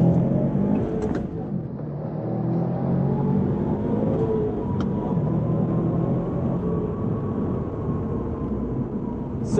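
2020 Subaru STI Limited with the FA20 engine accelerating hard through quick gear shifts, heard from inside the car: a loud, continuous engine drone with rising and dipping pitch at each shift, and no voices.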